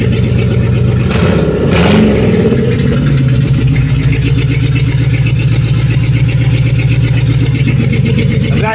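A 2006 Pontiac Grand Prix with a supercharged engine runs loud and close, rising briefly in a couple of revs before settling into a steady, even idle.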